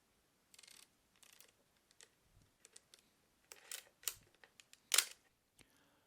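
A 35mm film camera's mechanical shutter fired several times with nothing being photographed, giving sparse, crisp clicks spread unevenly through a quiet room, one snap noticeably louder than the rest.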